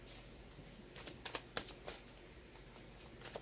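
Tarot cards being shuffled, soft papery riffles and slaps in short irregular bursts, quiet and close, with no talk.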